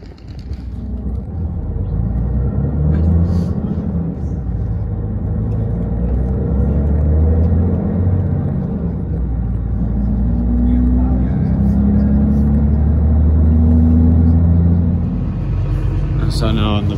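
A bus rolls through Reykjavík toward a hotel near the harbour, its low engine rumble and road noise continuous and fairly loud inside the cabin, with a voice speaking over it at times.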